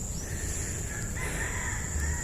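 A wild red jungle fowl crows in a drawn-out call, moderately loud over a steady noisy outdoor background, with no talking.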